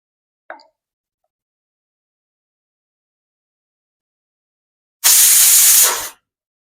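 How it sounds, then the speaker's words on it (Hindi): A pressure cooker on a stove, cooking stuffed bitter gourd, gives a short pop, then after a few seconds of quiet a loud, close burst of hissing steam that lasts about a second before stopping abruptly. "दो सीटी हो गई है। कुकर को हम चूल्हे पर से नीचे उतार देंगे।"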